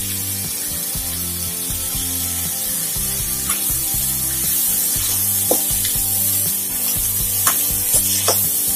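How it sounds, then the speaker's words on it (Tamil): Sundal, boiled legumes mixed with ground coconut, ginger, green chilli and garlic, sizzles steadily in a hot pan while a spoon stirs it, with occasional soft scraping ticks over a constant crackling hiss and a faint background hum. "மறுபடியும் லேசா ஒரு சுத்திடுவோம்."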